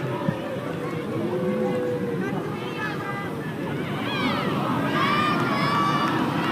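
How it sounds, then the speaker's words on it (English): A restless football stadium crowd at a W-League semi-final between Canberra United and Melbourne City produces a dense, continuous roar of murmuring and shouts, with a voice speaking over the noise. "Sense the crowd here getting very restless indeed."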